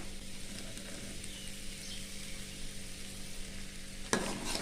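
Fried plantain chukka being stirred through masala paste in a pan, a steady soft sizzle with scraping stir sounds running throughout and a sharper clatter near the end.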